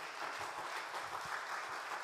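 Church congregation applauding during a Sunday worship service, a steady wash of many hands clapping at moderate distance, continuous for the whole stretch with no voices over it.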